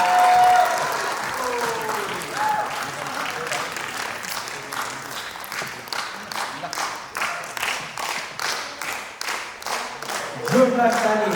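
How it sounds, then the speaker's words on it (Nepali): Enthusiastic applause from an audience at a group dance competition in Tokyo rises into rapid clapping that builds and then trails off, with a voice speaking briefly near the end. "जोरदार ताली।"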